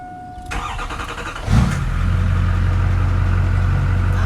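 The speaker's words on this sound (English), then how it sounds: "we're gonna start the Duramax real quick, just make sure everything's still kosher there" A Duramax diesel pickup engine cranks briefly and catches, then settles into a loud, steady idle close by.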